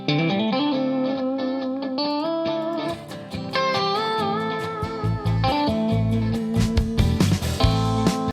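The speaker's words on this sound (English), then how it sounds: "let me just play quickly the rhythm guitar parts" Several electric guitar rhythm parts play together, with sustained distorted chords layered over crisp, choppy strumming and a bright, reverberant tone from a twang reverb.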